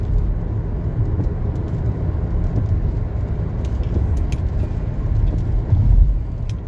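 A car driving along a road, heard from inside the cabin as a steady low rumble of engine and road noise that holds fairly loud throughout, with no one talking.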